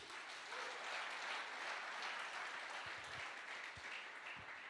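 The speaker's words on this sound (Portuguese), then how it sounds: "Aplauda ele aí, querido." A church congregation claps throughout, dense steady applause from many hands filling the room at moderate distance, with a few low thumps near the end.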